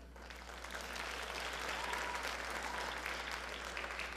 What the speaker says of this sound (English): And they need a round of applause.